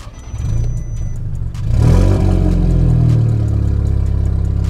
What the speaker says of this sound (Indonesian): Oke, sekarang kita mau nyalain mesin 800 horsepower.